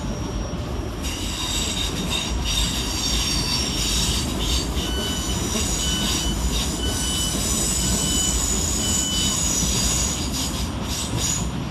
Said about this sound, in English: whilst departing in the background is 465191 and 465907, working the 1237 Southeastern service of London Charing Cross to Gravesend.